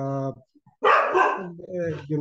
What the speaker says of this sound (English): That's my dog creating a racket.